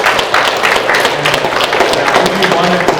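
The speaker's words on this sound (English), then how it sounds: "So a big applause for Frank Lemire today." A crowd applauds at a Native youth community event, with dense, steady clapping spread evenly across about three seconds while some voices murmur and faint tonal sounds hang underneath.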